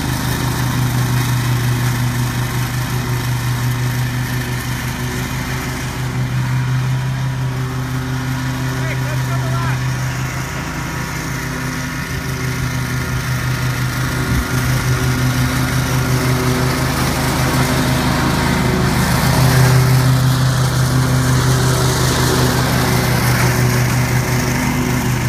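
A riding lawn mower engine runs at a steady, loud drone throughout the mowing, holding a constant hum with slight swells, and a voice talks over it.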